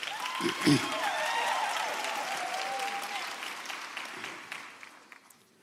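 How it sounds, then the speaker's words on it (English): Graduates at a University of South Africa autumn graduation ceremony applaud in a broad, even wash of clapping, with a brief louder swell early on and a long tonal sound and faint voices layered over the crowd. "Can you give yourself an applause?"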